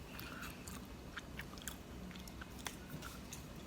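Crunchy bites and chewing of an Earl Grey lemon cookie, close and quiet, repeating in a loose, uneven rhythm with no talking.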